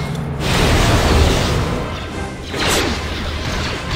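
A mine blows up in the Star Wars game KOTOR2, a loud close crash and boom with a whooshing tail, followed by a second burst of debris-like noise.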